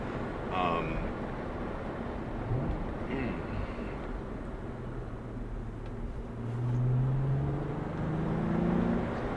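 A 2016 Cadillac ATS-V with a turbocharged engine pulls hard in a lower gear, its drone rising in pitch as power builds, heard from inside the cabin and steady throughout.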